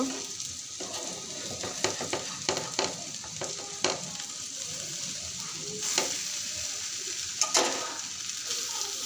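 Tawa kebabs sizzle on a hot griddle as they are flipped one by one, a steady frying hiss broken by sharp scraping clicks of a spatula against the metal, close and clear with no talking.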